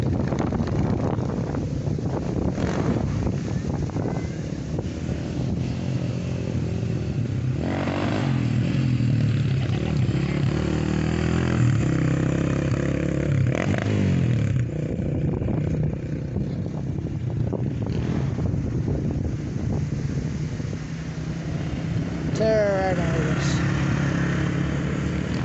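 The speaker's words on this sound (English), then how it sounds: "First ride on the 300 EX." A Honda 300 EX quad runs on an outdoor ride, its engine droning steadily under heavy wind buffeting on the microphone. A voice is heard now and then.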